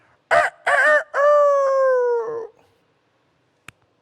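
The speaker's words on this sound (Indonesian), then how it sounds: "Baru ayam berkokok." A rooster crows once, close and loud: two short opening notes and then a long drawn-out call that fades into silence, followed by a brief faint click.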